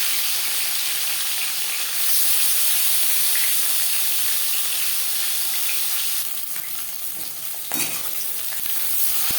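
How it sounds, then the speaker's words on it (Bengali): Silver carp pieces coated in salt and turmeric drop into three spoons of hot refined oil, a loud steady sizzle that swells as the fish goes in, with a few clatters near the end. "তিন চামচ রিফাইন্ড অয়েল গরম করে নিয়েছি দিয়ে দেবো লবণ হলুদ মেখে রাখা মাছ"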